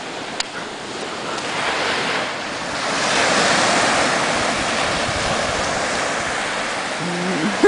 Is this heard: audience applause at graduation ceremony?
no